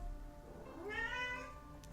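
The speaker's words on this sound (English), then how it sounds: "my cat is going crazy again" A pet cat named Pina gives one long rising meow, close by but quiet, over a low background hum.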